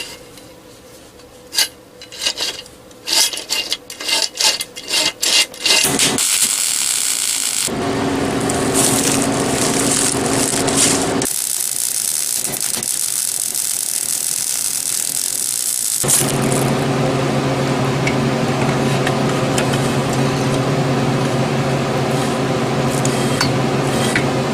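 A motor plate is welded onto a BMX e-bike frame in several bursts of crackling, buzzing arc noise, the longest lasting about eight seconds, with scraping and tapping between them.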